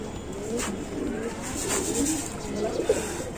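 Pigeons cooing softly while being fed and watered, low murmuring coos over a steady noisy background with faint rustling.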